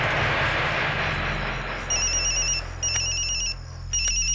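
Mobile phone ringtone chiming in repeated electronic bursts, loud and close, over a steady background hum in an indoor scene from a Bhojpuri film.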